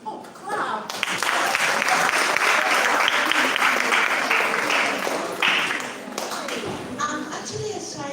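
Loud, full applause swells from a festival crowd greeting a woman taking the stage, holding steady for several seconds before easing off under nearby speech.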